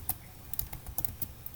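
A computer keyboard is typed quickly and close up while a file name is entered, giving a run of crisp, uneven key clicks with no talking.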